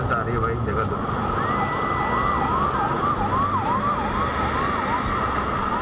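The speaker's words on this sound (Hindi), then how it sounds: "एम्बुलेंस आ रही है भाई," An ambulance siren wails steadily on a Delhi expressway, its rising and falling sweeps loud and close over constant traffic roar.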